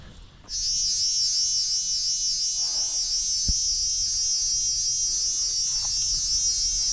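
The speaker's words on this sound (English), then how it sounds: "That is one cicada making that noise." A single cicada perched in a tree along a rocky bushland hiking trail in the Sugarloaf Range, New South Wales, gives a loud, shrill, unbroken buzzing drone that starts abruptly and holds steady throughout, with faint footsteps beneath and no talking.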